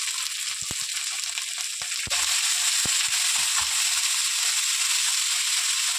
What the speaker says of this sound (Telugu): అల్లం వెల్లుల్లి వేసి ఇవన్నీ కరేమాకు వేసేస్తున్నాను